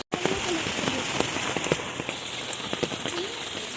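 Rain falls steadily in a village, a dense close patter of drops on surfaces with scattered louder splashes throughout.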